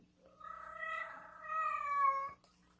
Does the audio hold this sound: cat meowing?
yes